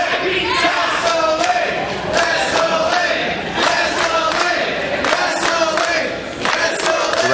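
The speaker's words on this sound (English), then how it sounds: "The rowdies in the crowd appreciate the wrestling that they're seeing here" A wrestling crowd cheers and shouts loudly without pause, rowdy yells and whoops rising over a dense wall of voices in an arena.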